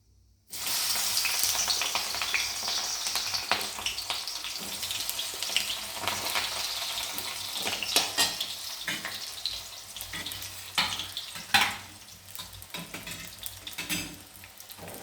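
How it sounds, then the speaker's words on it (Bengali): Eggplant frying in hot oil, a steady loud sizzle that continues throughout with occasional sharper crackles and pops, no voices. "এবার আমি বেগুনটা ভেজে নিচ্ছি।"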